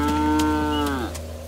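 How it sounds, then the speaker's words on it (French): A cow moos in a long, loud, sustained call that bends downward near the end, close by and alone. "Mais c'est une vache."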